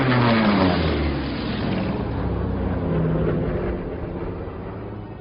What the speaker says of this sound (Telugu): ఆ సౌండ్ విన్నావా? అవును, ప్లైన్ వస్తున్నట్టుంది.